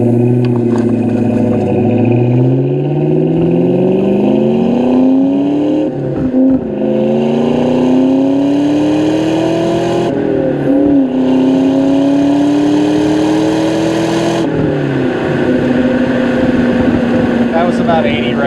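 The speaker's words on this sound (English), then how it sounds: "you don't hear that iconic Terminator Cobra supercharged whine" A 2003 Ford SVT Cobra's supercharged engine pulls through the gears, each climb in pitch breaking off at a shift, loud and close from inside the car with a voice talking over it.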